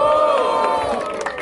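A rap battle crowd at a Batalha da Leste semi-final roars and cheers for Brenner, a dense, steady wash of voices and shouts filling the space with no pause.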